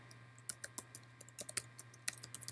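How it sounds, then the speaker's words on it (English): Computer keyboard typing, close and crisp, with irregular key clicks in short bursts over a steady low background hum; no one speaks. "if we were going to type something here, we would type CCD contract"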